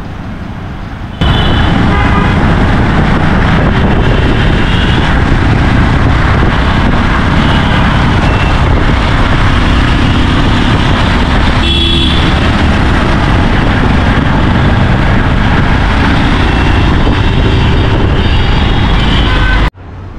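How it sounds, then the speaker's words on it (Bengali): Loud, continuous wind buffeting and engine drone heard while riding a motorbike through city streets, a steady roar that cuts off abruptly at the end. "ওর বাইকে করেই যাচ্ছি।"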